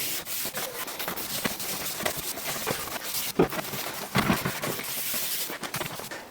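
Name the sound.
wiping stain off wood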